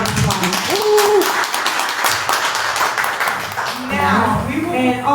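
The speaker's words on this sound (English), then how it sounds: "So give them one more round of applause." Audience applause at a community meet-and-greet, a steady roar of many clapping hands that fills the room, with whoops and voices rising over it near the end.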